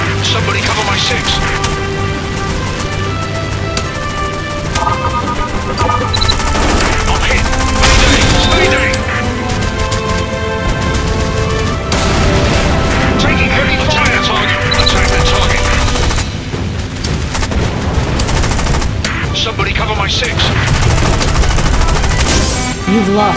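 Dense, continuous machine-gun fire and explosive booms from the War Wings aerial combat video game, loud and unbroken throughout, with a game voice calling out over the gunfire.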